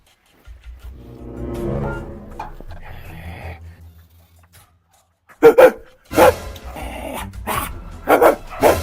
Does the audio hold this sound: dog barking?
yes